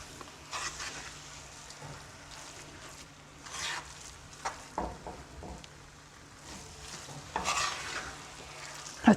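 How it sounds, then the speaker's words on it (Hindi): Grated carrot halwa with milk powder stirred in a pan, soft irregular scraping and shuffling strokes under a faint sizzle, close by, with no speech. "अच्छी तरह मिक्स करेंगे।"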